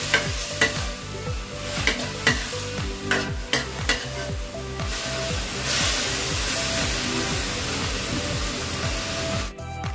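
Chop suey vegetables with a splash of soy sauce are stirred in a frying pan, a spatula scraping in quick repeated strokes over a steady sizzle, loud and close with no voices.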